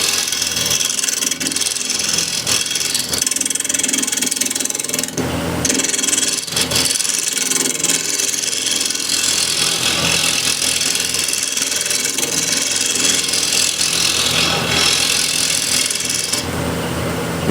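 A scraper cutting into a walnut or cherry wood plate: loud, continuous rough shaving and rasping over a steady machine drone, with brief dips where the tool lifts off the wood.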